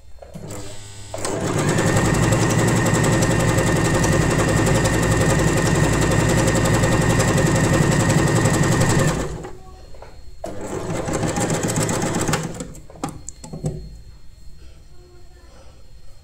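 An Usha Janome Wonder Stitch sewing machine runs a zigzag stitch with a loud, steady whir for several seconds. After a brief pause it gives a second, shorter burst, then falls quiet.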